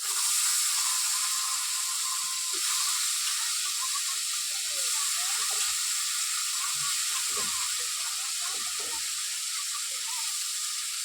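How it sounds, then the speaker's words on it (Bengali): Potatoes with onion and green chilli fry in hot oil in a wok, making a loud, even hiss that runs unbroken throughout, with faint scattered clicks underneath. "আলুটাকে একটু ভালো করে নেড়ে চেড়ে কষে নেবো"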